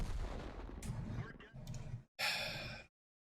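Artillery fire strikes a tank in a video game, heavy booming impacts with a low rumble that fade into a sharp, bright final blast before cutting to silence.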